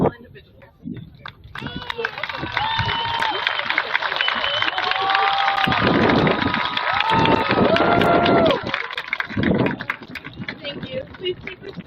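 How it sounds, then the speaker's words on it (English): Crowd at Hess Stadium standing to applaud and cheer after a speaker's call, a loud sustained wash of clapping and shouts swelling mid-clip, with a voice speaking over it at the start and end. "Please stand with me and give a heartfelt round of applause to those incredible individuals."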